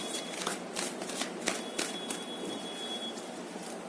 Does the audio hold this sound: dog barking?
no